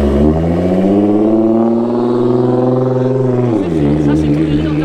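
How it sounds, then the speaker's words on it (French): A Nissan GT-R drives past on a Monaco street during a supercar event, its engine note loud and steady as it passes close, then dropping in pitch as it moves away. "On a cru que c'était une moto, mais non, c'était une GTR."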